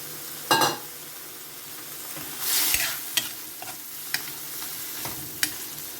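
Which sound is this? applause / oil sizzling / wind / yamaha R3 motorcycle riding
oil sizzling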